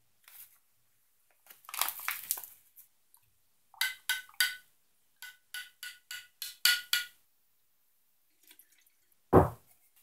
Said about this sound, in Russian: Поливаем сеянцы, только что пересаженные в контейнер.